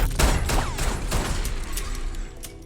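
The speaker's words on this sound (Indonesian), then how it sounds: "Samsul yang tidak bisa melihat apa-apa, ia pun menembak secara acak berharap peluru itu mengenai tubuh Norman." Gunfire in an action film, a dense, loud burst of shots fired at random that blends into a continuous noisy clatter for about three seconds, with no speech.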